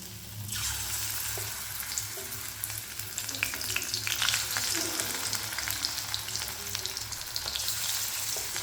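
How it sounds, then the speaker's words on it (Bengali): Potato peel pakoras deep frying in hot oil give a loud, steady, close sizzle that runs unbroken from start to finish, with no voices. "এই পকোড়াগুলো একটু লাল লাল করে ভেজে নিতে হবে"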